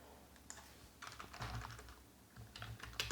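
Quick, quiet keystrokes clatter on a computer keyboard as JavaScript code is typed, in short uneven bursts with no talking.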